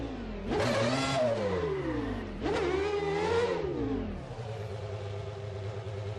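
A McLaren MP4/13 Formula One car engine in the rFactor 2 racing game revs hard twice, each loud rising and falling howl lasting about two seconds, then settles to a lower steady drone.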